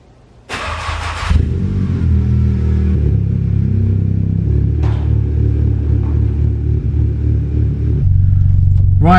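The engine of a crashed Audi S1 cranks and fires with a loud burst, then settles into a close, steady idle, with small rev changes and a deeper drone near the end.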